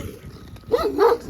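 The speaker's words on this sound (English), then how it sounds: "A mean ass dog." A dog barks twice in quick succession at a kennel in a rural village, short gruff barks fairly close by after a brief quiet lead-in.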